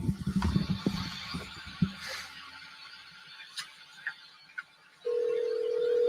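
Phone call to a phone, heard as a steady ringback or dial tone that starts abruptly and holds, after faint scattered noises and brief low voice-like sounds.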